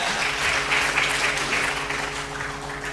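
Audience applause for paper presenters at a Pancasila academic event, a steady, dense clapping from a crowd filling the room, without pauses.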